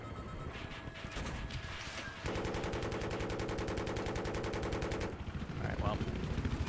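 Rapid automatic gunfire from a tank in a video game, a steady fast burst of shots lasting several seconds amid game sounds, ending abruptly before a few scattered impacts.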